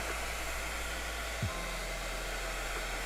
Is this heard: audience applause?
no